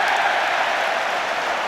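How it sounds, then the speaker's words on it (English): A Twickenham stadium crowd at an England versus All Blacks rugby match applauds and cheers a defensive stand, a dense, steady roar of clapping and voices filling the whole stretch. "a big round of applause and cheer for the defending"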